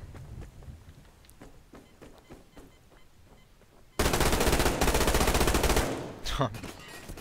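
Gunfire in the shooter game Survarium with a Kriss Vector or P90, scattered footsteps and faint shots at first, then a loud sustained burst of rapid automatic fire at close range, and a brief follow-up.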